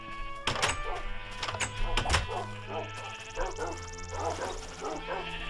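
Dogs in a Minecraft game give repeated short yips and barks, rhythmic and close, over a steady background of game sounds.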